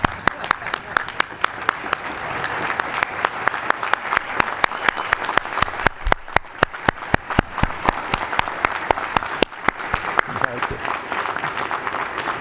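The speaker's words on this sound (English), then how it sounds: "Standing ovation for Dr. Alumni." Standing ovation at a medical school white coat ceremony: sustained, dense applause from a large crowd that stays loud and steady throughout, with a few sharper claps standing out near the front.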